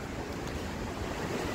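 Sea water washing against the stone walls of a coastal fort, a steady broadband surf rush with gusty wind over the microphone, continuous and moderately loud with no talk.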